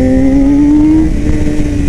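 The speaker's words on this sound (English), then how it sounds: "really just wanted to give you an idea of the sounds, the feeling of this bike" A race-prepped Yamaha R6 sport motorcycle engine revs close by, its pitch climbing steadily before settling into a loud, steady drone.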